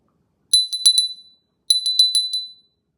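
A small handmade pottery Christmas bell decoration, its shape closed toward the bottom, rings twice, each a quick bright jingle of several clinking strikes that fade out, with a short pause between.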